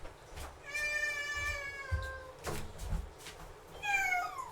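Person imitating a cat, giving three drawn-out, wavering meows in a high, nasal voice. The calls are close and clear over low background rumble and soft thumps.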